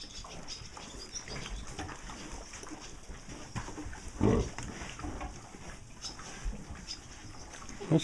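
Pigs root and dig into an old manure pack in a barn, giving a close, busy mix of rustling, shuffling and snuffling with one louder grunting burst partway through and no talk.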